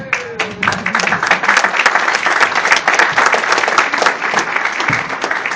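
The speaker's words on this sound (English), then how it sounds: "You can hold your applause, please." Applause for a hall of fame football team member fills a room: a dense, loud wave of many hands clapping that stays strong, with a few voices mixed in.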